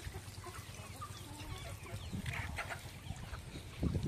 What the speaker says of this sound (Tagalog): Yung manok ko, more on Rhode Island Red.